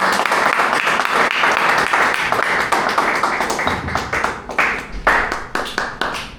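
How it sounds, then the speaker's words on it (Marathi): An audience claps in lively applause, a dense wash of hand claps that thins toward the end into scattered individual claps. "जोरदार टाळ्या वाजवा"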